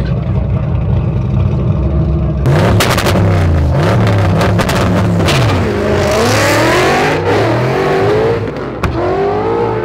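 A loud small-tire no-prep drag race car engine roars and revs hard, pitch sweeping up and down as it launches in the rubber, close and continuous.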